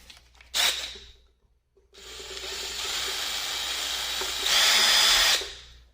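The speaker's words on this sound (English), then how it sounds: "So this is the 5mm drill bit." A power drill with a 5mm bit whirs briefly, pauses, then runs steadily for several seconds, rising in pitch near the end before spinning down.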